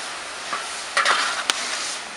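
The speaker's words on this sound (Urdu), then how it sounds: "یہ اب اس کو مستقل ہلاتے رہیں گے، اوپر نیچے اس کو کرتے رہیں گے۔" Dates being stirred in a large kadhai, a quiet steady rustle broken by a few short scraping knocks.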